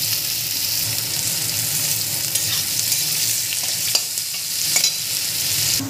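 Chopped onions hit hot oil in a kadai with bay leaf and whole cumin, producing a loud, continuous sizzle close up, with occasional stirring scrapes.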